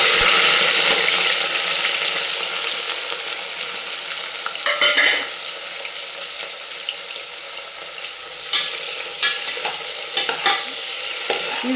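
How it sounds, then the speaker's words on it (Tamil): Curry leaves, tomato and onion hit hot oil for tempering a country-chicken curry, giving a loud steady sizzle that fades slightly, with a few clattering stirs of a spoon midway and near the end. "கருவேப்பிலை போட்டு தாளிக்கிறேன்."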